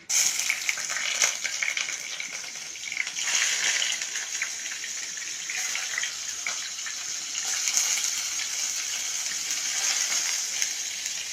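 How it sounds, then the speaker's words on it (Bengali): Ash gourd pieces fry in hot oil in a frying pan with a bright, continuous sizzle that rises and eases slightly in waves, close and steady with no voices. "তেল একটু একটু করে গরম হচ্ছে এবার আমি চাল কুমড়াগুলো ছেড়ে দিব"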